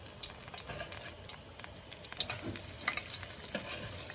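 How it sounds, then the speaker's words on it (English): Eggplant slices sizzle and crackle in hot frying oil, a quiet, steady spitting with small pops that thickens slightly as more slices go in; no one speaks. "we're testing now to see that the oil is ready for frying"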